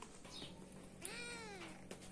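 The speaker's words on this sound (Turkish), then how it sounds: "Kedi hanım da yerlerde duramıyor." A single cat meow, rising and then falling, comes faintly on an upland plateau where light rain is drizzling. It sits over a quiet outdoor background.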